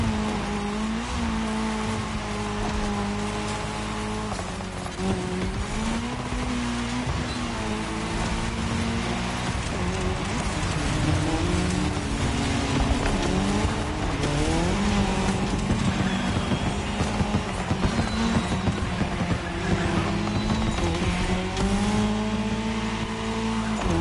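Race cars in The Crew Motorfest roar through a cross-terrain race, with engines revving and shifting pitch and tires squealing. The sound stays loud and continuous throughout, with no talking.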